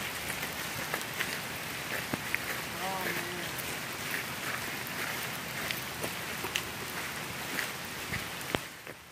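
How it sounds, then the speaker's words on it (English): Rain pattering steadily on surfaces and foliage along a hiking trail near hot springs, a dense continuous hiss with scattered louder drops, while people talk intermittently close by. "I think the rain feels wonderful."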